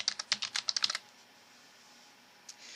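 Rapid keystrokes on a computer keyboard while entering a name into a search field of project management software, about ten close, crisp clicks in a burst lasting a second, then near silence and one final faint tap.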